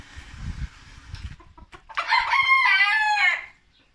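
Broody hens on a farm cluck and call, with a loud, drawn-out squawking cry near the end, close to the microphone.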